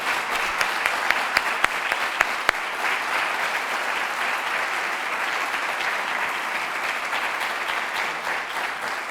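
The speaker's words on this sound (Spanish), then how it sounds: "Pido, por favor, un aplauso muy grande." Audience applause at a prostate cancer talk held by an association, thanking a urology speaker, with a few sharp nearby claps at first, then a steady wash of crowd clapping continuing throughout.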